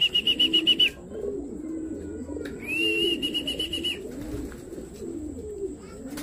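A racing pigeon lands home at the loft after a three-lap sprint race, with a quick burst of wing flaps at the start, soft cooing and pigeon calls over outdoor ambience, and a shrill chirping insect or bird tone overhead.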